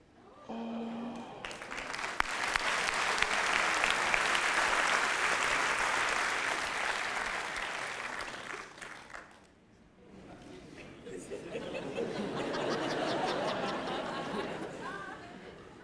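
Audience at a comedy show applauds loudly and steadily for several seconds, fades briefly, then breaks into a second swell of clapping with some chatter mixed in.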